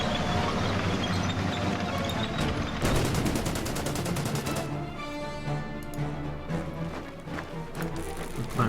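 Gunfire and bombardment from an attack on dug-in Belgian infantry near Bruges in the strategy game Order of Battle, a dense run of rapid repeated shots and bursts that stays loud and busy the whole time.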